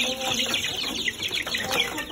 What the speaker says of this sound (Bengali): দেখো কতগুলো মুরগি, ওরা খুবই দুষ্ট